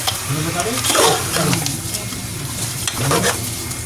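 Fatty bone-in mutton frying in a pan for a Pudukkottai-style curry feast, a steady close sizzle with bursts of scraping as the meat is stirred, under background voices.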